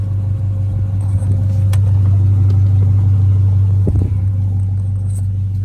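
Toyota Avalon engine idling, a steady low hum close by with a faint rise near the end and a few small clicks, no talk.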